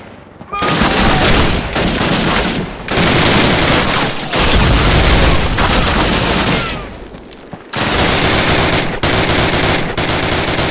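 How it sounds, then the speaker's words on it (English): Dense, continuous gunfire from the World War II shooter game Call of Duty, with sustained machine-gun bursts and overlapping rifle shots filling the scene, broken by a few brief pauses and occasional heavier booms. "Martin, Elder, give me covering fire!"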